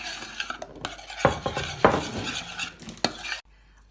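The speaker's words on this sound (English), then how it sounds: "You just keep stirring and stirring and stirring and stirring." A spoon stirs and scrapes through silky chocolate cream in a metal pan, with irregular clinks and sharp scrapes against the pan's sides, close and clear, ending abruptly.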